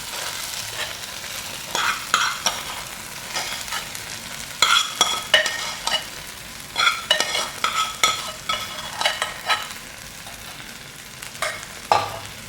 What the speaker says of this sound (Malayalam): ഇതെല്ലാം കൂടെ നല്ലപോലെ മിക്സ് ചെയ്യും.